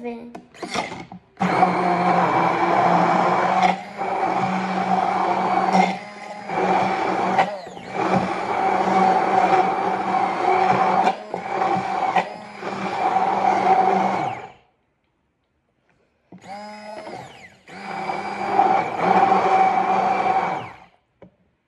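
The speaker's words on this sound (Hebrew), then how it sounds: "אני טוחן, אם יש לכם נינג'ה זה יהיה פשוט יותר מהר, אבל אני אוהב את המכשיר הזה" An electric food grinder runs in loud bursts while blending salad and sandwich sauce. The motor stops and restarts several times, falls silent near the end, then whirs again briefly.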